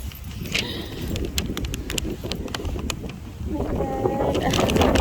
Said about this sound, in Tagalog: Ang lakas ng hangin dito.